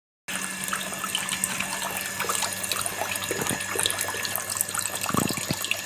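Water gushing steadily from a leaking sewer into a building, a continuous splashing rush with a few louder splashes near the end, fairly close and with no voices.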